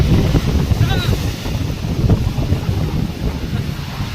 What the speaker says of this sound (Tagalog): Yan po ang ating lakas ng alon.